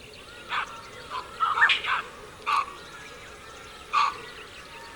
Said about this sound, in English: The barks of the baboons transform a concealed ambush into an